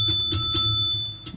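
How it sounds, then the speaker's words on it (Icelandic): A hand bell rung in a radio studio on an Icelandic local station, with several short bright rings at a steady pace and a final ring near the end, close and clear with no talk over it. "Ég er með bjöllu."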